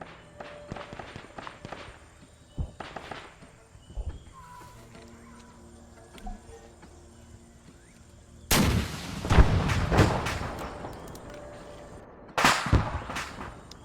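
Arma 3 Vietnam-era battle sounds: distant artillery booms and scattered gunshots, then a burst of louder, closer explosions and rapid fire, with footsteps and faint background movement between blasts, no talk.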